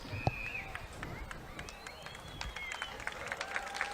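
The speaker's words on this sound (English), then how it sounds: "so you hear the round of applause in recognition of those who serve and served in our military" Crowd applause rising at a high school football game during a military appreciation tribute, scattered clapping and cheers spread across the stands at moderate distance, with some talk mixed in.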